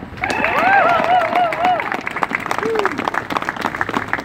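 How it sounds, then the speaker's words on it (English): An outdoor crowd applauding at a park gathering, with scattered clapping under a clear spoken voice with rising and falling pitch, the claps continuing in quick irregular bursts afterward. "Can we all applaud?"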